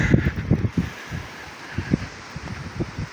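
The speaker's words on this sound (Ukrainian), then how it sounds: "не знаю, до речі, як буде звук, тому що вітер просто жахливий" Gusty wind in a maize field buffets the microphone in irregular low rumbling thumps, coming and going in bursts over a steady faint hiss.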